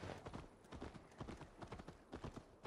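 Horse hooves gallop in a steady clip-clop rhythm, loud and close, during a ride in the Assassin's Creed Valhalla video game, with faint voices in the background.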